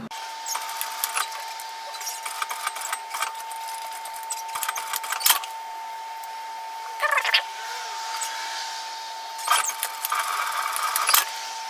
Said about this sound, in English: I'm going to edge stitch both of those pocket sides down